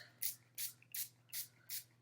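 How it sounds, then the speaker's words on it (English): A handheld water sprayer mists plastic sheeting colored with markers, five short hissing bursts evenly spaced about every 0.4 seconds, close up and quiet. "we are going to get our water sprayer and spray our markers, our marker plastic that we just colored."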